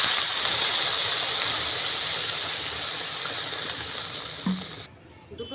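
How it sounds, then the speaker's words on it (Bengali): Water poured from a measuring bowl into a pot with sugar to make syrup for a pitha sweet: a steady broad splashing pour that runs for several seconds, then cuts off abruptly near the end. "মেপে আমি 2 বাটি জল দিয়ে দেব।"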